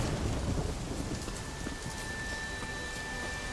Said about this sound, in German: Ich liebe den Regen.